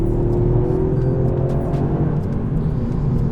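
Toyota GR Yaris engine pulling hard under acceleration, a steady close low drone with a rising harmonic tone and faint road whir, no voices.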